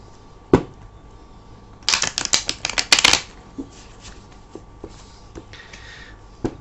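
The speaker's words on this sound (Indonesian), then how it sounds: "Oke, kita akan shuffle dulu kartunya ya" Tarot cards are shuffled in a quick, rapid riffling burst of crisp papery flutters lasting over a second, with a few isolated taps and card slides before and after.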